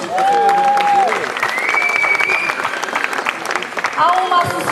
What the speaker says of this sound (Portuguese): muito obrigada e uma grande, grande salva de palmas.